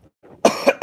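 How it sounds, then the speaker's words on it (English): A man coughs twice in quick succession, dry, close and loud, after a faint breath. "God, I keep coughing."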